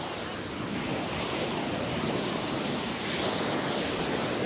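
Ocean surf at Coogee Beach in Sydney, with waves dumping in a shore break onto a steeply slanted beach, makes a steady, loud wash of broadband noise mixed with some wind, and no one is talking.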